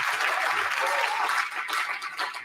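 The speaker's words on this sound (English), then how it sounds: "No, applause." Brief burst of crowd applause, a dense wash of clapping that holds steady and then thins slightly toward the end.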